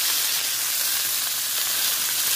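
Salmon fillet sizzling as it fries in a pan, a steady, even crackle of hot fat that holds at the same level throughout without any voices.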